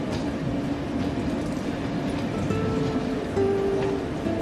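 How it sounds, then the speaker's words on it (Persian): A train rumbling past nearby, a loud continuous rolling roar with wheel clatter and a brief high squeal, steady throughout without speech. "داداش قطار دیگه داره میاد."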